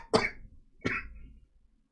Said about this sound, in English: I couldn't prevent myself from coughing there